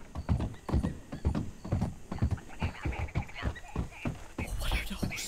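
Horses in Red Dead Redemption 2 whinny and snort close by over a run of hoof clip-clops, with a few softer vocal sounds and a brief rustle near the end.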